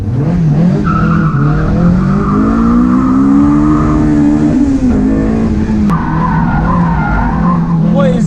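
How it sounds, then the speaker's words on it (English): A modified Honda S2000 AP1 laps Lime Rock Park, its engine droning loud and steady from onboard while the tires squeal and skid through a long corner, pitch rising and falling with throttle. "the Project AP1 Honda S2000 tested at Limerock Park 2022"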